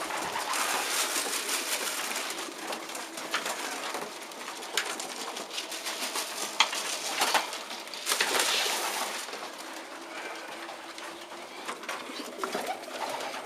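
Meuleman x Claessen racing pigeons in a loft at feeding time, a steady busy wash of wing flutters, shuffling and soft cooing that swells around the middle, with no talking.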